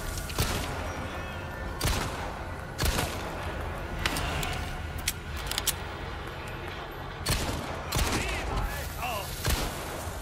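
Shotgun blasts fired at a bomb in the Resident Evil 4 Remake VR game, several loud booming shots spaced a second or two apart over dense, continuous game noise, with someone talking excitedly in Portuguese between them.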